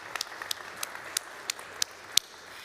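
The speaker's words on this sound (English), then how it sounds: "A round of applause for that." Scattered, sparse clapping from a small hackathon audience at a conference event, a handful of separate claps spaced out and fairly quiet, with no one speaking.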